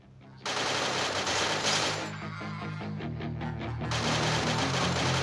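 Rapid automatic gunfire in a video game, loud and continuous bursts of closely spaced shots with a brief change in texture midway, no talk over it.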